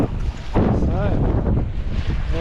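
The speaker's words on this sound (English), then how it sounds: "the wind sort of, it's just patchy, it just keeps on coming, it's up and down." Steady, blustery wind roars across the microphone, rising and easing in gusts, with a faint voice briefly audible in the background.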